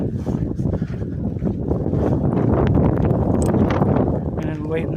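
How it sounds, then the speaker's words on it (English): Strong desert wind buffets the microphone in a steady, loud roar that builds through the clip, with heavy low rumbling gusts on an exposed trail. "It's too windy to hold an umbrella."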